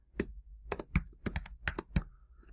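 Close, crisp keyboard typing, a handful of irregular keystrokes tapping out over a couple of seconds with brief pauses between them.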